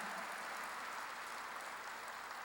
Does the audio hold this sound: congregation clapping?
yes